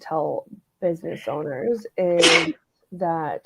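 A single sharp sneeze bursts out in the middle of a conversation in a recorded interview show, loud and close, with talking just before and after it.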